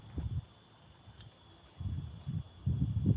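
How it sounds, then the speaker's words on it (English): A cicada in Torrevieja gives a faint, steady, high-pitched buzz throughout, with soft low thumps and rustles nearby. "Can you hear the background? You hear the buzzing? All that noise will be one cicada."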